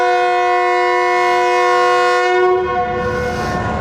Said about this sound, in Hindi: डिपार्चर विसल हो गया, दोबारा से सवार होते हैं ट्रेन पे।